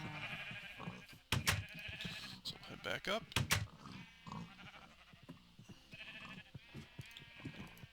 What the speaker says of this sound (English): So there's my sheep.